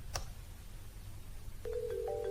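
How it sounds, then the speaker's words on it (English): A phone on a Neron 20 IP PBX extension starts ringing near the end, a steady electronic tone entering after a faint click over low background hum. "As you can see, it is ringing."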